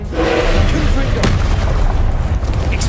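A Confringo blasting spell in Hogwarts Legacy explodes with a loud, heavy boom that rolls into rumbling debris and low thuds over a few seconds.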